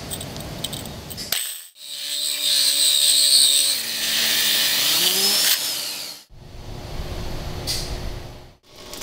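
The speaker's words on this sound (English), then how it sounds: "And begin drilling." A steady, high-pitched whine of a tile core drill biting into tile, with grinding and a shifting motor tone, stopping and restarting.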